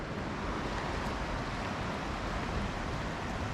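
The flooded Nepean River at Yarramundi, already up to the car park, gives a steady, dense rush of fast-moving water, loud and unbroken, with no voices.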